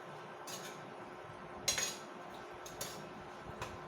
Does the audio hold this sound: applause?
no